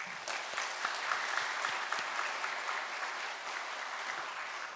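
A church congregation at a Sunday morning service applauds the Hosanna choir, a dense, steady wash of clapping from many hands that holds at an even level throughout, with no voices above it.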